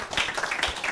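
A young audience of African youth ambassadors claps in brief, lively bursts at an event honouring peace efforts in eastern DR Congo, the clapping close and fairly loud over one second.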